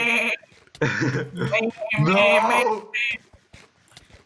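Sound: sheep bleating

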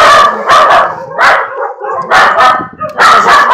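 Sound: puppy barking

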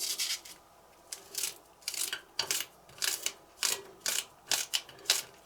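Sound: chopping green onions by hand

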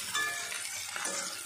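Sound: frying onions in hot oil for mutton biryani

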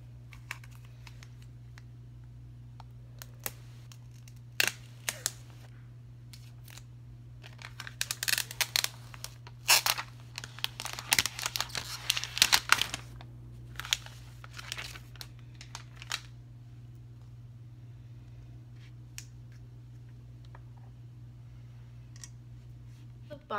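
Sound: unwrapping an Apple iPad Air 2 box

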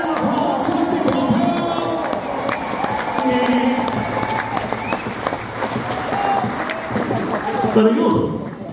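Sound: audience applause and cheering

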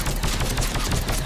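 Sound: gunfire in video game Mass Effect 3

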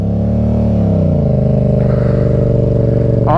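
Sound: Yamaha MT-07 motorcycle engine idling high

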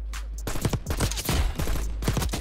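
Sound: gunshots from the video game Black Ops 6

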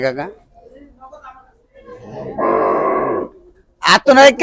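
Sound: cattle mooing at a cattle market

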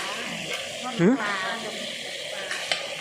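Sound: frying fish cakes

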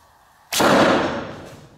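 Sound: arrow shot from a 35-pound bow

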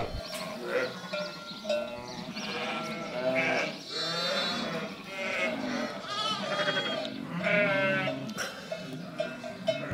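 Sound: sheep bleating on a farm

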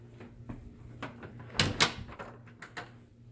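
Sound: backyard door opening

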